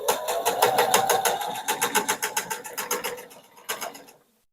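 Sewing machine stitching fabric for a flip-fold sewing caddy organizer, a steady rapid mechanical whir of needle strokes that runs close and loud, slows briefly, then stops after a final short burst.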